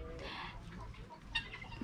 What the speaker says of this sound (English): the chickens that we saw inside